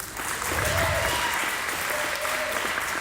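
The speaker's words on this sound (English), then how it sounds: "Give yourself a big hand" At a clean comedy benefit show on a Saturday night, the audience breaks into a sustained wash of applause, thick and steady from start to finish, with faint voices and cheers mixed in.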